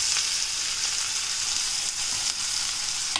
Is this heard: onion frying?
yes